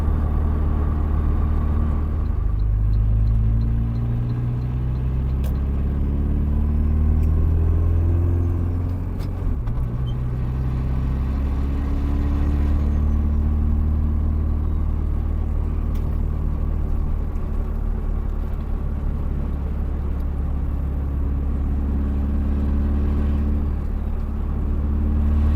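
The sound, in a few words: Saab 9-5 Aero engine with turbos spooling up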